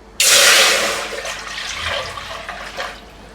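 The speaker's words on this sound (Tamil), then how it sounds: "தண்ணி சேர்த்துக்கலாம்." Water poured into a pot of lightly fried cinnamon, clove and star anise for chicken biryani, a sudden loud gushing splash that tapers over about three seconds into softer sloshing.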